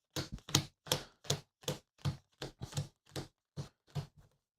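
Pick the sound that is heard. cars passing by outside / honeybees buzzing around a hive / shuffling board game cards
shuffling board game cards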